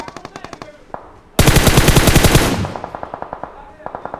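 Rapid automatic gunfire in the mobile battle royale game Battlegrounds Mobile India, a dense loud burst of shots with scattered single shots before and after.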